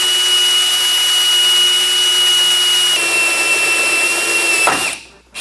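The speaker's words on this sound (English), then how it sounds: "I'm gonna go ahead and bolt down the fuse box now" A power drill drives bolts to fasten down a fuse box panel during a widebody fender fabrication job, a loud steady whine that shifts pitch partway through, then cuts off abruptly near the end.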